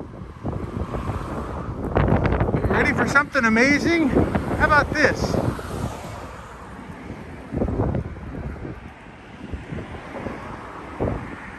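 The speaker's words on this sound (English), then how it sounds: "I know it's windy and I know the traffic's terrible." Wind at the Corinth Canal in Greece buffets the microphone in a steady, rumbling roar that gusts up and down, with a person speaking over it for the first half.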